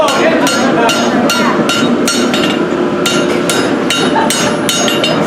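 Repeated hammer blows ring out on metal in a steady rhythm, about ten sharp, loud strikes over a constant background hum, with no talk.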